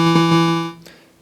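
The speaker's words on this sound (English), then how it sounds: "So if I pick the square wave," A Korg MS-20 synthesizer holds a steady square-wave tone, loud and close, with a strong buzzy stack of harmonics that sustains for most of a second and then fades out, alone with no talk.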